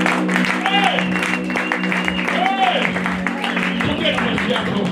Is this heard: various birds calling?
no